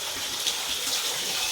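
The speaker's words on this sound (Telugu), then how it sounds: "ఇక్కడ వాటర్ ఎవ్రీ టైం ఇక్కడ వాటర్ వస్తూనే ఉంటాయి" Water pours steadily at a Shiva temple in Devarcherla, a continuous bright rushing splash like a running tap, close and even in level with no talk over it.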